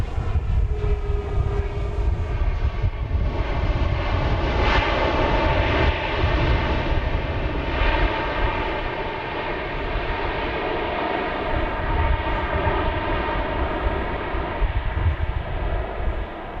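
A jet airliner takes off from runway 31 left at Dallas Love Field, a loud sustained engine roar with whining tonal harmonics that slowly shift in pitch, close and steady throughout.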